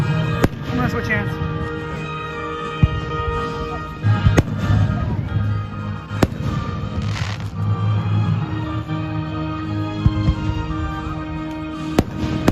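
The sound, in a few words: fireworks exploding in the neighborhood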